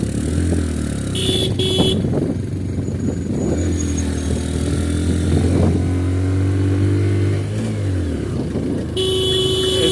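Motorcycle ridden along a dangerous stretch of road to Sajek, engine droning and revving up and down with passing traffic and brief horn blasts, loud and close.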